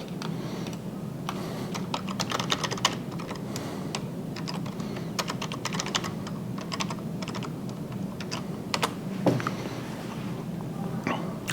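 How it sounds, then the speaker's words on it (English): Typing a password on a computer keyboard during an account login: a steady run of close, crisp key clicks with brief pauses, continuous throughout, no talking. "I type my password in my account."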